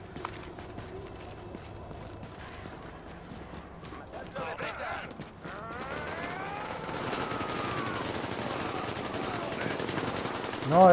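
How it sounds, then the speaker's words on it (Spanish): Sustained automatic gunfire and scattered shots in Tom Clancy's The Division, rattling continuously under a busy game soundscape with whooshing effects, growing denser toward the end. "Es que han empezado a disparar"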